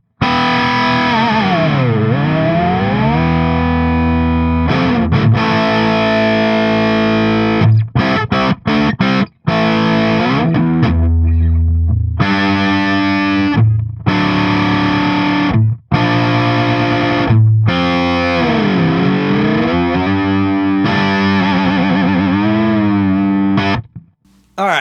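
A Harley Benton SC Custom electric guitar with Floyd Rose tremolo played through heavy distortion, loud and continuous with dive-bomb pitch bends, sustained chords and brief choppy stops.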